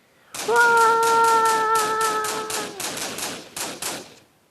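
Chained TNT blocks detonate in a modded Minecraft-style game, a dense rapid crackle of explosions bursting loud and continuous for several seconds, with a held synth tone early on, before thinning out.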